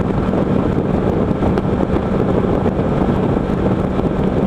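Steady, loud wind roar and road rush from a Kawasaki Versys 650 LT motorcycle cruising at highway speed on an interstate around 6,000 RPM, continuous and unbroken throughout with no talking.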